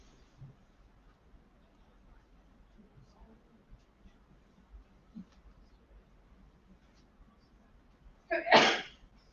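A single sharp sneeze bursts out near the end, in a quiet room during a London ecommerce workshop, after a long stretch of faint background murmur.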